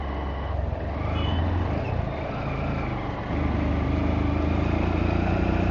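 A Honda X-Blade motorcycle rides through Siuri at night, its engine a steady, close drone with wind rush, rising slightly in intensity partway through, with no talking.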